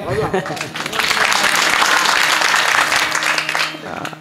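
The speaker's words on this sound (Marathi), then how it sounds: "एकदा गायक वादकासाठी जोरदार टाळ्या झाल्या पाहिजे महाराज" Loud, sustained applause from a kirtan audience for the singers and musicians, dense clapping swelling after a brief spoken lead-in and holding steady for several seconds before tapering.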